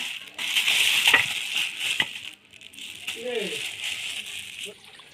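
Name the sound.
raw chicken pieces being poured out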